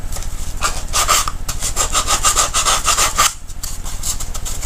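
A nail file rubs back and forth over the side of a small wooden keepsake box in quick, steady rasping strokes, close and loud, with a brief pause near the end before the strokes resume.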